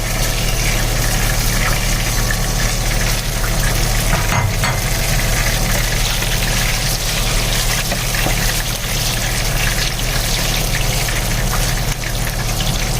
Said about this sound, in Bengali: মশলাগুলোকে সুন্দর করে নেড়ে চেড়ে ভেজে নিয়েছি